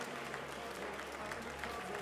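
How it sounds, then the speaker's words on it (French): A crowd at a cheese and chef cooking competition in Lyon claps steadily for the contestants, a soft, even wash of applause heard from a distance over a low background hum. "On peut applaudir, mesdames et messieurs, tous ces candidats"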